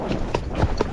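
Hooves of a young Tennessee Walking Horse, a gaited breed, clopping in a few soft, evenly spaced beats while being ridden outdoors on a trail near a hill.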